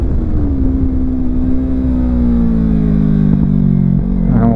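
A Kawasaki Z300 motorcycle engine drones loudly at close range as the throttle is reopened, its pitch sliding gradually downward before a brief rise near the end, with no talk.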